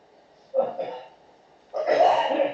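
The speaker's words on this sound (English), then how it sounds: "Sorry, I got a violent cough" Two rough coughing bursts from someone ill, a short one and then a longer, harsher one, close to the listener with no talking.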